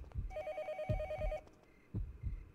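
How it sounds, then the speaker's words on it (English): A telephone rings in the horror video game Yomawari: Night Alone, with a steady electronic bell tone sounding over a low, rhythmic heartbeat-like throb. The ringing stops partway through while the pulsing continues on its own. "Is that a phone ringing?"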